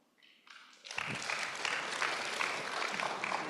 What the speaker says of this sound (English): Applause for Mr. Furukawa